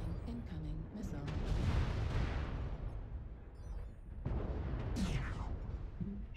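Incoming missile fire in the MechWarrior Online battle game, with rolling booms and explosive impacts building in bursts, loud and crackling, while players talk over the action.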